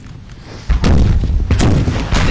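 Artillery and musket gunfire in the Napoleonic Total War 3 video game, heavy booming volleys that start abruptly and repeat in quick succession, loud and close with no talk.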